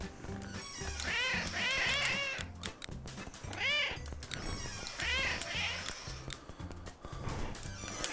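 Cartoonish cats in the video game CatNab meow repeatedly in overlapping bursts over a busy game music loop, several loud, drawn-out mews clustered together, then more after short pauses.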